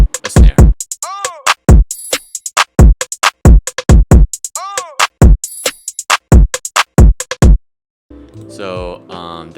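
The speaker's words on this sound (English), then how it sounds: "So that's the whole drum." A programmed drum pattern in a hip-hop beat: crisp repeated hits, snare and percussion in a bouncy loop, with pitched sweeps, loud and dry, ending in a brief melodic sample tail.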